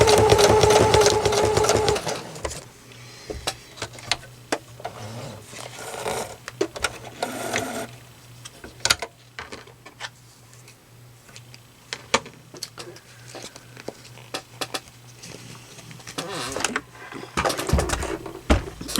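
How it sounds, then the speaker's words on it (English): A domestic sewing machine stitches through vinyl plastic in short whirring bursts separated by pauses, loud and close, with a sustained run near the start and quick stop-start runs later. "This is now the second time I have sewn with the vinyl."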